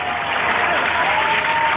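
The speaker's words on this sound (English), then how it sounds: "have to give you an applause there" A short canned applause effect, played by a podcast host, gives a steady, dense burst of clapping with a thin, band-limited tone and no voices over it.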